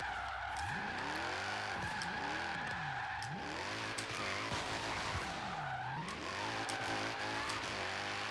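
Car drifting in a racing video game, its tires squealing in long sweeping wails that rise and fall over a steady engine drone, loud and continuous with no talk.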